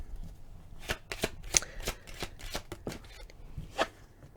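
Tarot cards shuffled by hand in a quiet room, a run of crisp riffling flicks and slaps at an uneven pace, close and fairly soft, with no talking.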